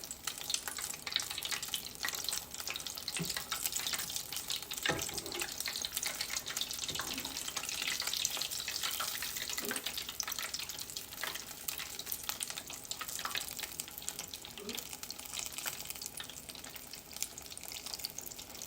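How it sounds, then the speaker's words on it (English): Mac and cheese balls deep frying in hot oil, giving a steady dense bubbling hiss that runs unbroken throughout with a few faint clinks. "And I'll show you how quickly it fries."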